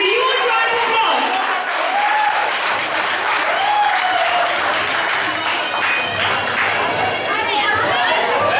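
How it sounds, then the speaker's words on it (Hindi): Loud, sustained applause from a large audience welcoming a maths teacher onto the stage at a felicitation ceremony for NEET-qualified students, dense clapping mixed with crowd chatter and voices throughout. "please welcome Ankit sir on the stage with a huge round of applause"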